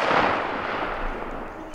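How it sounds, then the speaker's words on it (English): A single loud, close gunshot is fired at a turkey during a spring hunt. The sharp blast fades into a rumbling decay over about two seconds. "Shoot him, Sam"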